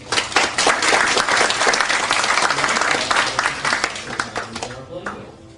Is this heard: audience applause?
yes